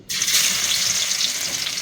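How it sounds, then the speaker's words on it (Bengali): Crushed garlic fries with whole cumin in mustard oil in a wok, a loud, continuous hiss of sizzling that starts abruptly as it hits the oil and holds steady. "জিরা ভাজা হয়ে গেলে এর মধ্যে আমি থেতলে নেওয়া রসুন দিয়ে দিচ্ছি"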